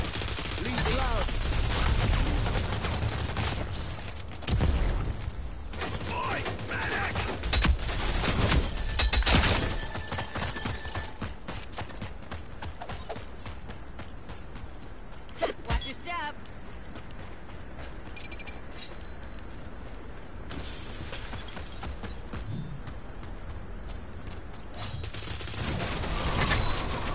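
Gunfire laid down as cover fire in a first-person shooter match, with dense bursts and scattered single shots crackling over a noisy, busy battlefield mix, one sharp loud report standing out midway.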